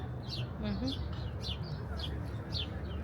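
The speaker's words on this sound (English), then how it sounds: "We've got sparrows over here." Sparrows chirp outdoors on a lawn near ducks, several short high chirps repeating at a steady pace, moderately near and fairly faint under background ambience.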